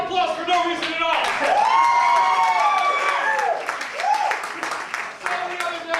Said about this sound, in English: Let me get one more round of applause for no reason at all.